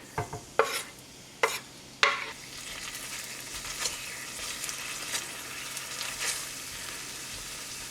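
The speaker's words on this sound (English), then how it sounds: "into the heated pan, you're going to want to put your oil. Now you can add your anchovies and your garlic" Anchovies and garlic drop into hot oil in a pan. Three sharp clatters come first, then a continuous crackling sizzle with small scattered pops, heard up close with no one speaking.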